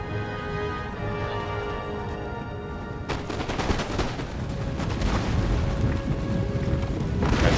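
Musket volleys in Empire: Total War during a Great Britain campaign battle, a continuous rumbling crackle of distant gunfire with sharper, denser bursts after the first few seconds under a droning musical tone.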